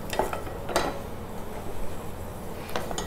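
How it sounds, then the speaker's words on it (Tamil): Cashew nuts roast in a pan for a Navarathri sweet. A soft, steady sizzle plays close, with a few light clinks of a spoon or spatula against the pan and no voices. "முந்திரி பருப்பை வறுத்து எடுத்துக்கிறேன்"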